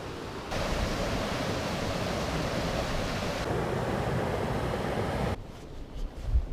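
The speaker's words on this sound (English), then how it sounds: "It's a dam at the Jägala Waterfall, which I explored curiously." Steady, loud rushing roar of water pouring over the dam at Jägala Waterfall, continuous broadband noise with no voices that cuts off abruptly near the end, leaving quieter outdoor sound.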